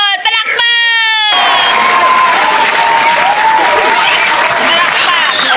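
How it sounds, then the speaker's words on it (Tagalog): A crowd bursts into loud, continuous clapping with scattered cheers and children's shouts, following a short spoken exchange at the start. "Palakpak."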